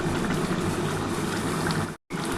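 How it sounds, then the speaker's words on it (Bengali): Soybean and potato curry bubbling in a pan, a steady close simmering burble with dense popping bubbles, continuous apart from a brief silent cut near the end. "একটু ভালোভাবে আগে ফুটে যাক"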